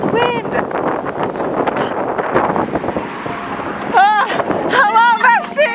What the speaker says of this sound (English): It's cold. This wind.